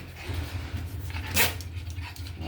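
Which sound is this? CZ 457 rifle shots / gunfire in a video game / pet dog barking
pet dog barking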